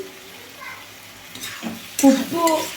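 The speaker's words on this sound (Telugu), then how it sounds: "చూడండి ఒక్కసారి కలిదిపుకుందామండి, లేకపోతే అడుగు మాడుతుంది." A spoon scrapes and stirs bottle gourd fry in a pan, with a soft sizzle underneath and a few clinks near the end. Someone speaks over it.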